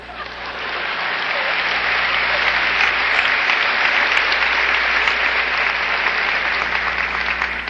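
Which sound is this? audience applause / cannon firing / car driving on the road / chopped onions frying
audience applause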